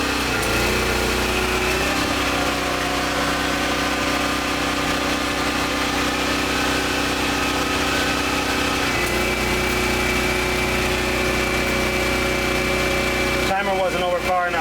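A 1998 Maytag Performa electric dryer hums steadily while powered by a portable generator, a constant engine drone with tonal whine that shifts slightly partway through, loud and close throughout, with a brief clatter near the end.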